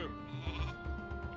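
Sheep bleat in the Northgard video game, a short wavering baa over low background game sound, fairly faint.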